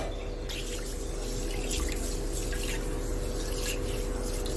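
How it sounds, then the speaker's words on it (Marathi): Moong beans being rinsed in a bowl of water at home before pressure cooking, a steady close splashing and dripping of water that continues without pause. "याला धुवून काढूया।"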